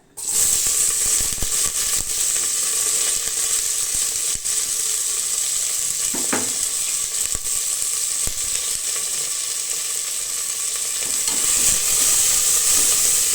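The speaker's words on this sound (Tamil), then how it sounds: "வெங்காயம் வந்து ஓரளவுக்கு வதங்கட்டும்" Onions and curry leaves fry in groundnut oil with a dense, steady sizzle and hiss that carries on throughout. A brief stir breaks in midway, and no one speaks.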